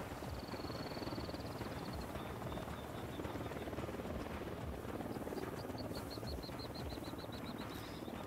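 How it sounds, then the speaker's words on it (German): Steady rotor drone of a helicopter in the video game Ghost Recon Wildlands, a continuous broadband wash lasting throughout with faint high chirping tones riding on top, no talk. "Und jetzt kommen wir noch im Heli."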